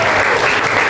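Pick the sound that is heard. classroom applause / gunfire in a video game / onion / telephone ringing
classroom applause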